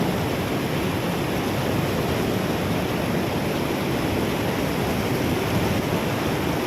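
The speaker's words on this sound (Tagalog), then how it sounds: "malakas o yung agos eh" A strong river current rushes steadily in a broad, constant roar of flowing water that is loud and close, with no break and no voices.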